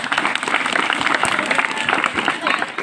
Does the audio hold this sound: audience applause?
yes